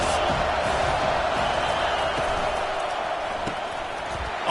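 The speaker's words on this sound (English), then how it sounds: "this crowd is tearing the lid off this place" Loud, dense stadium crowd roar at a college football game, Georgia Tech against Miami, on third down, a steady sustained wall of noise filling the whole stretch with scattered shouts.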